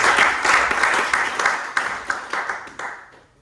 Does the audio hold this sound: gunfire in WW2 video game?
no